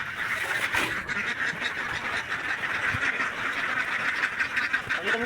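A large flock of ducks kept for eggs quacks continuously in a dense, overlapping chorus at steady loudness, with no clear pauses.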